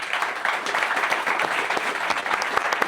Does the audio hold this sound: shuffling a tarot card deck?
no